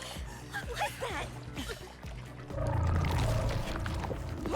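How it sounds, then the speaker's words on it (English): A monster in the anime Dan Da Dan sucks water into its neck with a deep, rushing, gurgling roar that swells and grows louder partway through, along with whale-like moans. "Sucking water into its neck."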